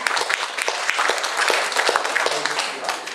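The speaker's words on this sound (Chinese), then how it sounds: "那我们用最热烈的掌声来欢迎高国庆高院长" An audience applauding to welcome a hospital director at a talk, dense steady clapping from many hands filling the room, with speech overlapping.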